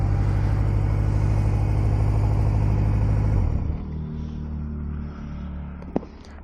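A 1977 Hondamatic motorcycle engine running steadily with a low, dense rumble that drops to a quieter idle after a gear shift, with a brief click near the end.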